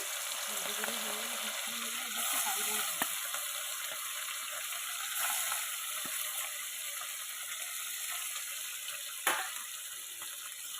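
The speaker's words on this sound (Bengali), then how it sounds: "আবারও ওই তেলের মধ্যে মাছ অল্প করে দিয়ে ভেজে নেব" Small mourala fish fry in a pan of oil, producing a steady, fairly quiet sizzle that holds throughout with a few faint clicks and one sharp tap near the end.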